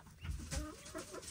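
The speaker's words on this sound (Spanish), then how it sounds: "tenemos aquí las gallinas nuevas" New hens on a farm cluck softly in a few short, low murmuring calls, faint and close, with no talk over them.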